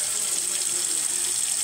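Tap water runs in a steady, unbroken hiss for under two seconds, fairly close and with no voices over it, while someone prepares a magic trick.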